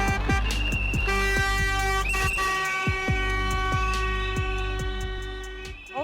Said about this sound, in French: Au cœur d'une zone résidentielle, un concert de sifflets et de klaxons.